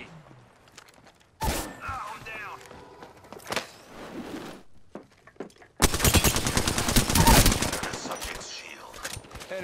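Video game gunfire from an enemy: scattered single shots, then a dense rapid burst of automatic fire lasting a few seconds, loud and close, with a voice speaking between the bursts.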